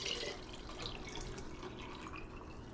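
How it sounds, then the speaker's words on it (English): Vinegar pours steadily into a quart glass canning jar during coleslaw preparation, a soft continuous liquid trickle and splash heard close up with no talking. "I think I'm going to fill up with vinegar."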